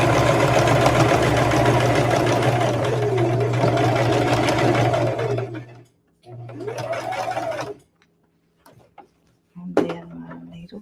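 Sewing machine stitching a rag bag, a loud steady motor whir in long runs that stop, restart briefly, then pause again with a short final burst.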